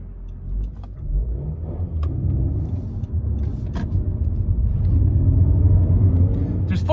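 Honda Civic GT with a VTEC Turbo engine accelerating through the gears on the road, a steady low engine rumble that builds in loudness, heard from inside the car.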